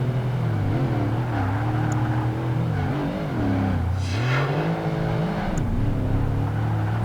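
A Mercedes SL55 AMG races in Project Gotham Racing 2, its engine droning loud and steady with pitch rising and falling through gear changes and corners, a brief tire squeal in the middle, no talk.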